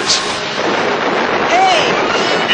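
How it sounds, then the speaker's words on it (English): A Star Wars laser cannon fires as a booming, blasting burst inside a continuous dense wash of effect noise, loud and close, with a faint whistling sweep partway through. "managed to fire the cannon repeatedly until he and Han had shot down all their pursuers"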